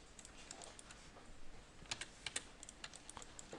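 Quiet keystrokes on a computer keyboard while modelling a character rig in Maya, scattered light clicks that cluster into a few quicker bursts toward the middle and end, with no talking.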